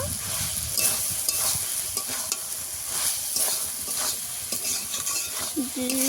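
Chili powder and spices sautéing in oil in a pan for ghugni, a steady close sizzle with scraping stirs running throughout, loud and continuous with no talking.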